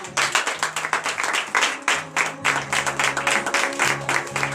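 A congregation at a morning prayer service in Benin claps rhythmically and loudly in steady beats while voices call out in acclamation alongside the clapping.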